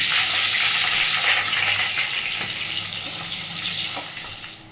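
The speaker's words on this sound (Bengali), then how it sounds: "পেঁয়াজটা এরকমভাবে ভেজে নিলাম বেশি লাল করলাম না" Onion fries in hot oil for a mutton curry, a steady, fairly loud sizzle that fills the whole stretch and slowly eases toward the end, with no talking.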